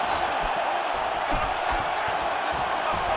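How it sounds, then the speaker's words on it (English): Arena crowd at a professional MMA fight roaring and surging as two fighters trade heavy strikes, a dense continuous wall of cheering and shouting with brief swells, steady and loud throughout. "you hear the crowd react every time they come together"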